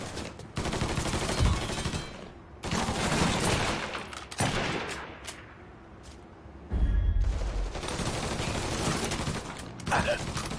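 Gunfire from the video game Mafia 3 comes in bursts of rapid shots, several loud volleys separated by short pauses, with a mechanical rattle between them and a heavy low thump near the end.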